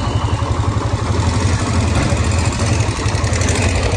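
A motorcycle engine idles in the cold to warm up, a close, steady low throbbing putter with an even rhythm and no other sounds.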